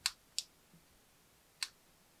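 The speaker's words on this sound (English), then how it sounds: "I trim away that little sliver" Scissors trim a thin sliver of printed paper while making a DIY miniature Advent calendar, giving three short crisp snips close by in a quiet room, two in quick succession and one after a pause.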